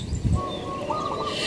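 A spotted dove calls outdoors on an Indonesian hunting outing, its soft, fairly faint cooing and chirping notes drifting over a low background hum, with no talk.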